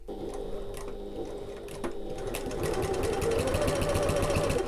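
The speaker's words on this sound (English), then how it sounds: "I'm going to use my top stitch in stitch length, and I'm going to stitch along each long edge" Sewing machine top stitching along the long edge of a fabric tab, a close, quiet rapid needle chatter that speeds up and runs steadily to the end.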